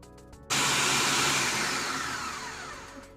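A blender purees pumpkin and carrot for a Jamaican punch, kicking on abruptly after a brief pause and then whirring loudly and continuously, easing slightly toward the end.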